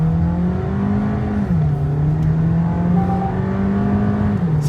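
A Volkswagen Virtus 1.5 GT sedan with DSG gearbox accelerates on an empty road, its engine holding a steady, loud hum inside the cabin with brief pitch steps as the revs shift, and no talking.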